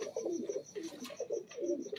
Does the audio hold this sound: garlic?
no